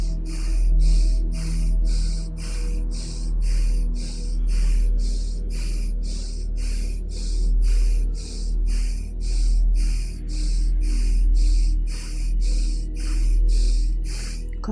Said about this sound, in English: let's continue right away with the medium breaths, focusing in the middle part of your spine